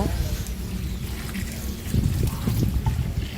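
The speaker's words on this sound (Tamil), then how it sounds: "கொஞ்சம் செடிக்கு தண்ணி ஊற்றி விடலாம்" Water trickles and splashes steadily onto plants and the ground, a continuous soft pouring with rustling, under a faint background hum.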